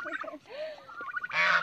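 Fowl calling in a Philippine farmyard, likely a turkey or duck: a few short honking calls, a rising squawk, then a loud harsh burst at the end, fairly close.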